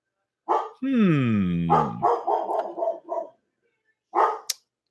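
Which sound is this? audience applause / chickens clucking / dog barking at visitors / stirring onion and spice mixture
dog barking at visitors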